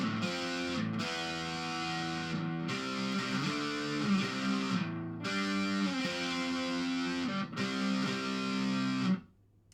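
Electric guitar strums a chord-based solo line, sustained chords moving in steady phrases with brief gaps, moderately quiet and clean-to-lightly driven, alone without voices until it fades out.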